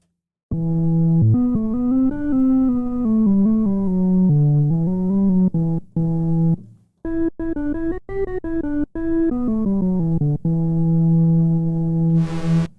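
A synthesizer pad played with the mod wheel plays a sustained melodic phrase with sliding, wavering pitch, broken by a few short pauses, ending in a burst of bright hiss.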